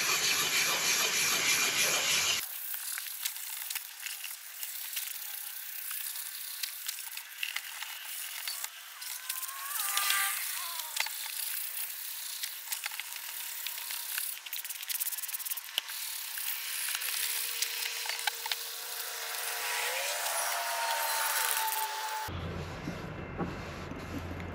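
Steady, faint scratchy rubbing as a roughly 20-year-old car headlight is wet-sanded by hand with 400 grit sandpaper, a continuous close gritty hiss with slight rhythmic strokes.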